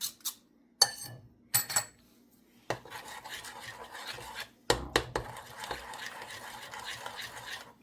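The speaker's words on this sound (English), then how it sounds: "I am going to scrape down my spoon because I know that I have dry mix there." A spoon scrapes dry gluten-free pancake mix from the sides of a bowl, giving a few sharp clinks and scrapes at the start and then a steady rasping stir, close and alone with no talk.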